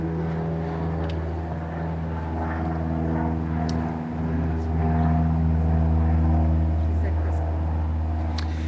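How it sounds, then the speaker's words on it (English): A plane passes high overhead during an evening service, a steady low droning rumble that swells slightly near the end, with murmuring voices and small noises beneath it. "You're hearing a plane overhead."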